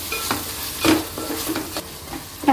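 Chopped tomato sizzles and fries in a pan, with a soft steady crackle and several short scraping stirs; no voices.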